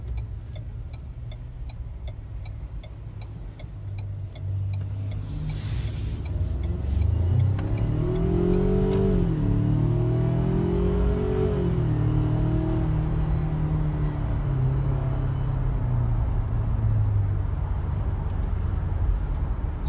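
A 2019 Ford Ranger pickup with a 2.3 liter EcoBoost turbo engine pulling away from a traffic light, a steady low rumble rising as the engine revs up, heard from inside the cab with a faint ticking alongside.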